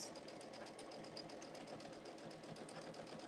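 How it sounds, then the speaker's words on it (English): A home sewing machine stitching fabric, its rapid even needle chatter running steadily throughout, close but quiet, with no voices. "Now the machine is going a little bit faster"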